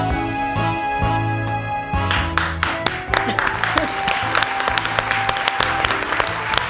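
Music with sustained tones gives way to a burst of clapping, quick handclaps sounding close over the fading music.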